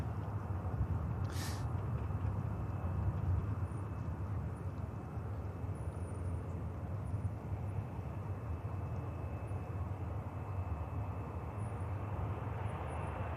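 A TUI airliner departs Manchester Airport, and its jet engines produce a steady, distant broadband roar. The roar holds at an even level throughout, with no voices over it.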